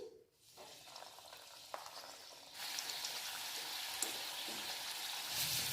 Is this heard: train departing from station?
no